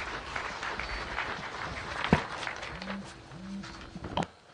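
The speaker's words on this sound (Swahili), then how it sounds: "Tumpigie makofi mengi sana Bwana Nicholas kwa taarifa nzuri" Applause from an audience at a Tanzania–Uganda oil pipeline signing ceremony for speaker Nicholas, a broad crowd clapping texture spread across the whole stretch with a couple of brief louder knocks.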